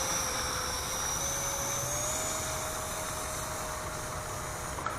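An E-flite F-15 electric model jet at full power on its takeoff run, a steady loud whine of the ducted fan with a rising tone, constant and close, no voices.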